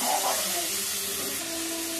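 Chicken pieces frying with onions and a clove in a pan for chicken kosha, giving a steady close hiss over the whole clip with no talk.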